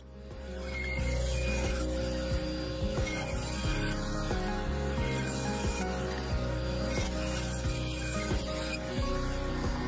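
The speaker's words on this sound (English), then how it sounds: "Next, I cut off the waste strip from each of the offcuts." Bandsaw cutting waste strips off wood offcuts, a steady motor hum with a rasping, rubbing cut running throughout at moderate volume, close by, no speech.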